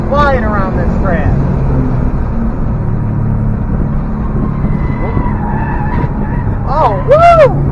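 A 2013 Subaru Impreza WRX runs hard around a race track at a speed expo, its engine roaring steadily near and loud with brief tire squeals, while an excited voice talks over it.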